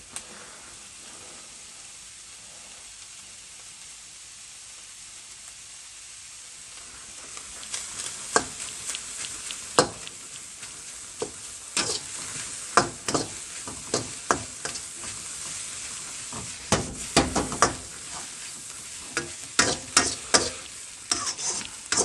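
Bacon fries in a bowl while being stirred. After a quiet start, a close, steady sizzle takes over, broken by sharp scrapes and taps of the utensil.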